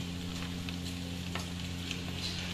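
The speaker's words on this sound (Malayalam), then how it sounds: "ഇനി ഇതിന്റെ പച്ചമണം മാറുന്നത് വരെ നല്ലപോലെ നന്നായിട്ട് വഴറ്റി" Garlic and ginger paste sautéing in a pan while biryani is prepared, giving a steady, faint sizzle with light stirring scrapes and a constant low hum beneath.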